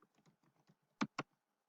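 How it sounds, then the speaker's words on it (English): A computer keyboard being typed on, a short run of soft, quick keystrokes followed by two louder, sharper key presses, close and otherwise quiet. "So I will type in his name."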